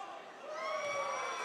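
A basketball gym crowd at a boys' high school game between Waverly and Piketon, distant cheering and whooping that swells, with voices shouting over the roar.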